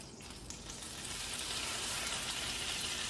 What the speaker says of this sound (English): So now you have to add a little bit water to make it steam.